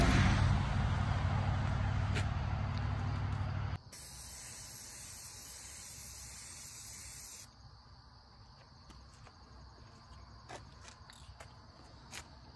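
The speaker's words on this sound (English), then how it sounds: "hold your leaf up to the deer blind and spray." A steady, loud hiss of an aerosol spray paint can, sprayed through a leaf stencil onto a deer blind, for a few seconds, then a quieter continuous hiss with faint background tones.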